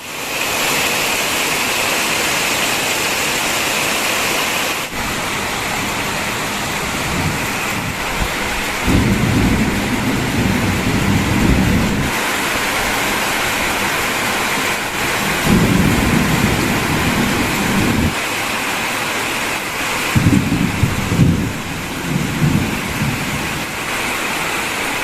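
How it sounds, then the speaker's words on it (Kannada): Heavy night rain pours in a constant loud roar while thunder rumbles in three long, deep rolls, the storm sounding close and drowning out everything else. "ನಮ್ ಕಡೆ ರಾತ್ರಿ ತುಂಬಾ ಜೋರಾಗಿ ಮಳೆ ಕೂಡ ಬಂತು"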